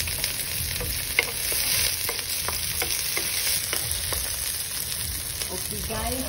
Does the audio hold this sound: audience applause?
no